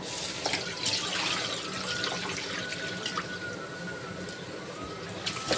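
A tap runs steadily while fresh fish is washed in a kitchen, a continuous close splashing flow with scattered drips and light clatter.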